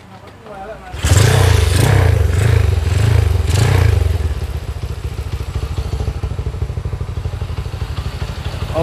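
A Honda Megapro motorcycle with a 72 mm stroke, 70 mm piston and modified camshaft runs loud and close while its exhaust is checked, a revving burst with pulsing throb settling into a steady idle rumble, with talk over it.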